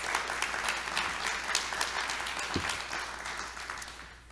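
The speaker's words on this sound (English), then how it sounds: "can we give them another round of applause?" Audience applause for the performers at a storytelling night, a steady wash of many hands clapping together, fairly close and continuous, thinning slightly toward the end with no voices over it.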